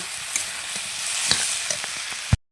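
Cabbage ghonto with potatoes frying in a pan, a steady close sizzle with a few light stirring taps that ends in a sharp knock before cutting to silence.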